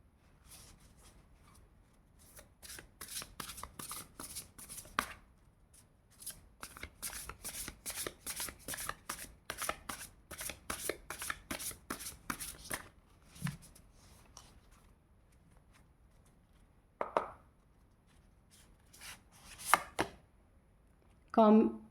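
Tarot cards being shuffled in quick, dense riffling bursts up close, running almost continuously for several seconds with brief pauses, then trailing off into a few scattered handling sounds.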